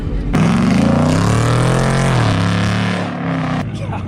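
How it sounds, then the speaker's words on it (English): A loud engine roars at a street race between a nitrous Mustang GT 5.0 and a 1000 hp Jeep Trackhawk, revving up and holding a strained, rising note before cutting off abruptly. "God, the car's so fucking loud."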